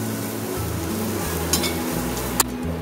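A ground coconut paste for cherupayar thoran roasts in a pan with a steady close sizzle. A couple of brief clinks from stirring sit over the sizzle, and nobody speaks.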